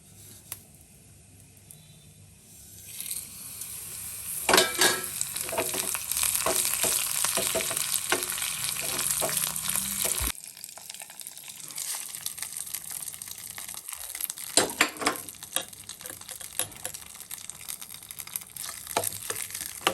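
Mustard seeds and curry leaves hit hot oil in a pan for a curry leaf and mint chutney tempering. Quiet at first, then a sudden loud, busy sizzle with sharp popping crackles that eases slightly but keeps spitting.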